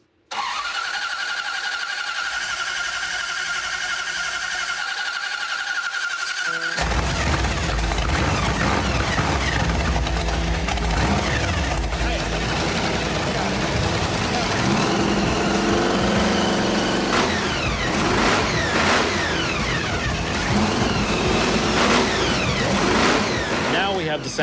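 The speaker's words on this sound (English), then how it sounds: "With all the money we spent on this 34, I'm expecting this engine to fire on the very first time." A classic 1934 Ford's engine cranks briefly, then catches and settles into a loud, rough idle with occasional revs, running close by with voices talking over it.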